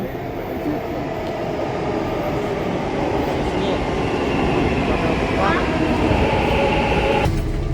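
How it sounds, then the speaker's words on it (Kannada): A Bangalore metro train pulls into a station with a loud, steady rumble that holds for several seconds, broken by a brief high wheel squeal near the end. "ನಮ್ಮ ಟ್ರೈನ್ ಬಂತು ನಮ್ಮ ಮೆಟ್ರೋ ಬಂತು"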